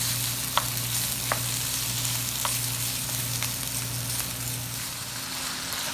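Meat frying in a pan with onion, bell pepper and celery for dirty rice, a steady close sizzle with a low hum underneath and a few faint clicks.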